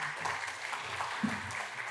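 A congregation applauds during a Sunday worship service, a dense, steady patter of clapping with voices mixed in.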